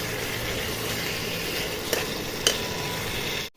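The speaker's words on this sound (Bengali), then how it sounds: "আস্তে আস্তে শুরু হয়ে এই যে এভাবে কিন্তু মাংসটা কষাই করে নেব" Marinated chicken fries in a kadai with a constant close, hissing sizzle and a couple of brief scraping knocks from stirring, with no talking.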